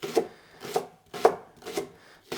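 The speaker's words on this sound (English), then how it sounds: "So I'll just cut those into rings." A knife slicing leek into rings on a cutting board, four or five distinct, evenly spaced chopping strokes with quiet gaps between them.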